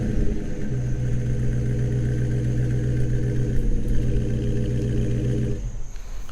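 A 2022 Dodge Charger's 5.7-liter V8 rumbles at a steady, deep idle close by, holding a low throbbing note for several seconds before cutting off abruptly near the end.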